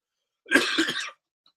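A single short burst of coughing and throat clearing, close and fairly loud, lasting under a second before silence.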